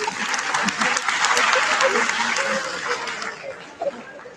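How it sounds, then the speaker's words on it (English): Audience at a national student symposium breaks into applause that swells loud and then gradually fades, with scattered voices murmuring underneath as the clapping dies down. "So they need appreciation and applause from my side."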